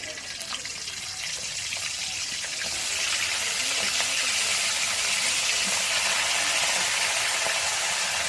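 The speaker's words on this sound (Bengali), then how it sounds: "ডুবো তেলে ভাজো।" Crab deep frying in hot oil in a village setting, a loud, steady hiss and crackle that swells after a few seconds and holds, close and continuous.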